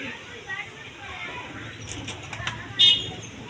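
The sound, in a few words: pigeons cooing while eating grain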